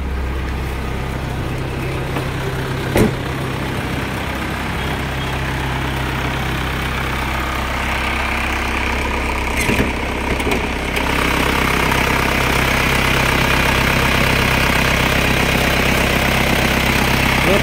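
A 1997 Isuzu Panther diesel engine idles steadily nearby with a low, rough chugging hum, interrupted by a couple of brief clicks.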